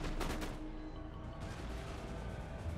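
Musket and cannon volleys from a line battle in Empire Total War, dense overlapping gunfire and booms rumbling continuously at a fairly loud, distant-sounding level with no speech.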